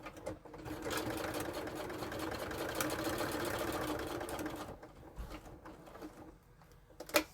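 A sewing machine runs in one sustained stretch of rapid stitching, then stops, leaving quieter handling sounds and a brief bump at the end.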